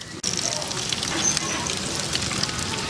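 Fish frying in hot oil for a Tamil village-style tuna pickle, a steady dense sizzle that runs the whole time with one brief dip near the start, under some talk.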